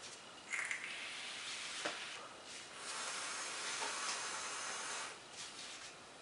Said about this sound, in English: Let's see how this baby vapes.